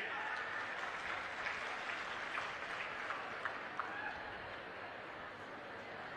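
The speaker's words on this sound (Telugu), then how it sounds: "ఏమయ్యా రైతులు గట్టిగా చప్పట్లు కూడా చెప్పండి" Farmers at a political rally in Peddapuram applaud in a steady, far-off wash of clapping that lasts the whole stretch, with a few sharper claps now and then.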